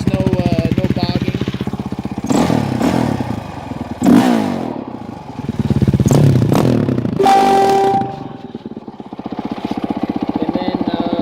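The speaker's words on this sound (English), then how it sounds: "I had it warmed up on purpose so I could rev it up." Honda CRF450X dual-sport dirt bike, warmed up, idling with a rapid thumping beat and then revved several times in quick, sharp blips that fall back to idle, loud and close.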